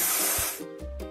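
Spray paint hisses loudly over a truck in a kids' video game: one long burst that fades, then two short spurts with low thumps between them.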